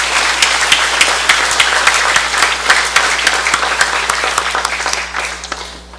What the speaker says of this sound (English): May we have another round of applause for your new 24th Congress of the Federated States of